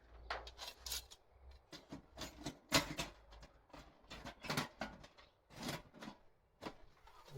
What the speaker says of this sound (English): I'm going to very quickly assemble the front and back plate on to test to make sure those go on and off easily